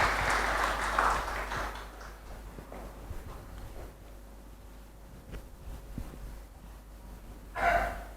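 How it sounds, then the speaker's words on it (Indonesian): A church congregation at a Sunday Pentecost service claps in a brief burst at the start, goes quiet with faint rustling, then breaks into a second short round of applause near the end. "Kita beri tepuk tangan untuk Tuhan."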